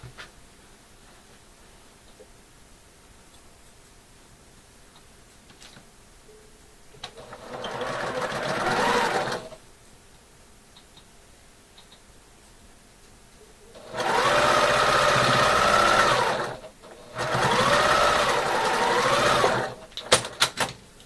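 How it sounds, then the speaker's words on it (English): A sewing machine stitches quilt blocks together in three loud, steady whirring runs of a few seconds each, separated by quiet pauses with faint handling sounds. "So now I'm going to sew these 2 together to make that X that we're going for in the center."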